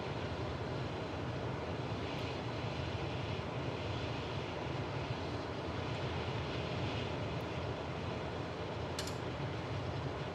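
Steady aircraft engine drone from a climbing plane in Microsoft Flight Simulator 2024, carrying a skydiver up to 10,000 feet; a continuous, even roar with no voices.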